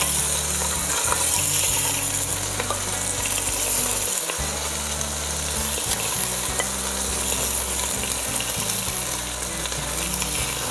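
Chicken pieces sear and brown in a casserole pan for a poulet basquaise. A loud, continuous sizzle of frying fills the pan, broken by occasional stirring and scraping sounds, with no voices.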